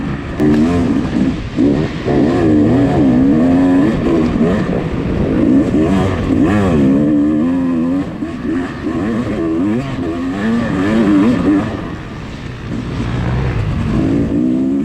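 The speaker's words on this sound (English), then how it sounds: "Just to touch on this YZ250X a little bit, this bike has been super fun so far." A Yamaha YZ250X dirt bike racing in a hare scramble, its engine loud and close, revving up and down in continuous rising and falling waves for the whole stretch with no voices.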